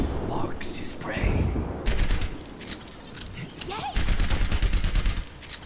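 Overwatch gameplay gunfire rattles in rapid, dense bursts, loud and continuous with brief dips, layered over busy in-game action sounds.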